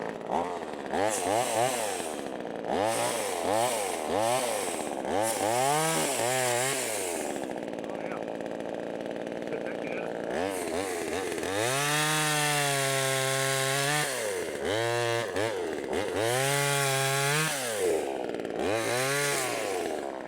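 A VEVOR 12-inch 25.4cc 1.2hp gas chainsaw revs in repeated bursts, its pitch dropping and straining as it bites into hard mesquite wood, with an idling pause in between.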